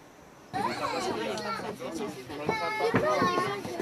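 Many children chatter and shout inside a crowded Santa train climbing a mountain in Switzerland, a close, lively babble of young voices over a low rumble of the carriage.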